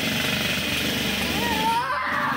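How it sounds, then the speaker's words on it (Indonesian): A noisy motorcycle passes nearby, its engine droning steadily and rising slightly in pitch over a couple of seconds against a continuous outdoor background. "Motor berisik."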